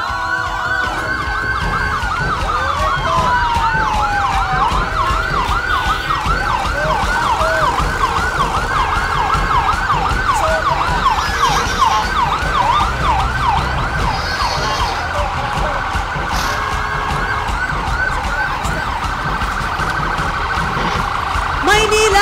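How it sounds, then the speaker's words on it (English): An ambulance siren wails at a city float parade and street dance festival in Manila, a loud, close, continuously cycling electronic siren running throughout over crowd ambience. "Ayan nga po ang ating ambulance."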